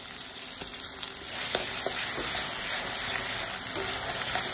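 Chopped tomato and green chillies fry with ground spice paste in a pan for paneer capsicum, making a continuous close sizzle and hiss with a few soft stirring knocks.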